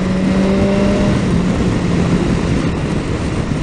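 A 2018 BMW S 1000 XR motorcycle pulling hard in fifth gear, a loud sustained engine roar blended with heavy wind rush, steady and close.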